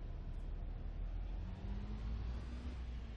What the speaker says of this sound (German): ich höre was vom Motor